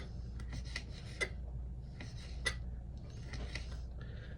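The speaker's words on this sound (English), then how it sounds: "I want to cut it into small pieces" A knife slicing already julienned food into smaller pieces on a cutting board, quiet repeated rasping strokes in an uneven rhythm, close and soft with no talking.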